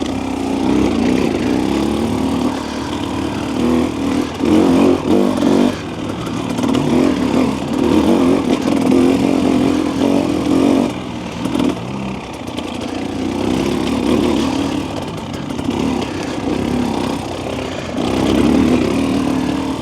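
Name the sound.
2025 Husqvarna TE300 motorcycle engine lugging in third gear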